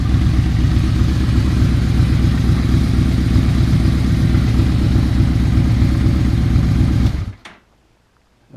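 Yamaha Royal Star Venture motorcycle fitted with Harley mufflers idles loudly and steadily with a close, low, throbbing pulse, then cuts out abruptly near the end, leaving near silence.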